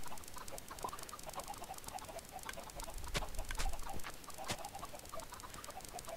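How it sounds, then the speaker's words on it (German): Faint clucking of Minecraft chickens with small patters and a few sharp clicks over a soft, busy background hiss. "Scheiß Hühner!"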